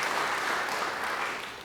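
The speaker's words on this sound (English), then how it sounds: "we need to give him another round of applause" Brief round of applause at a disability affairs awards ceremony, a crowd clapping evenly at moderate volume and tapering off as it ends.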